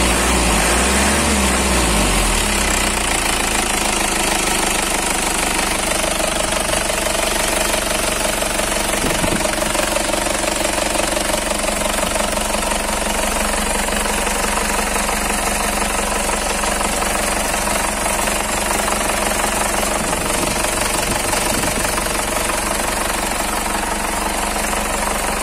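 A 2005 Ragasa light truck engine runs steadily for the whole stretch, a loud, close diesel idle with a constant low throb and rattly mechanical knock, no talking over it.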